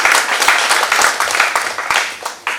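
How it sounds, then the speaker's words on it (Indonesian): Audience applause at an election literacy training session, dense sustained clapping from a room full of people, loud and continuous, tapering slightly near the end. "Tepuk tangan yang meriah Bapak Ibu semuanya."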